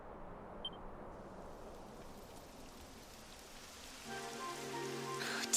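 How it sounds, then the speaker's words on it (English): Steady rain falls in the video game Dragon Quest XI, a soft continuous hiss of drops that stays even and moderately close, with a faint tonal layer of game sound entering toward the end and no talk. "It would have to go and start raining, wouldn't it?"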